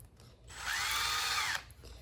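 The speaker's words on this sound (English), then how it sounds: "I'm just going to drill a small hole right here in the middle" A drill with a 1/8 inch bit bores a small hole in the middle of a Corvette taillight assembly, a short high whine rising and steady for about a second before stopping.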